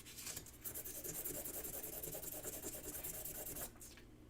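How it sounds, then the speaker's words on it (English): Sandpaper of 400 grit rubbing file marks off a workpiece, a steady raspy scrubbing in quick repeated strokes, close and fairly even, stopping near the end. "I have file marks on here, so we're going to take those file marks off by sanding, and I'm using 400."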